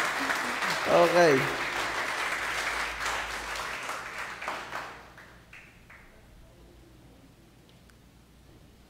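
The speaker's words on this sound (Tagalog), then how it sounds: "Palakpak naman para kay Jesus." A church congregation applauds for Jesus in a broad rushing wash that swells and then fades gradually to quiet. A voice speaks briefly near the start.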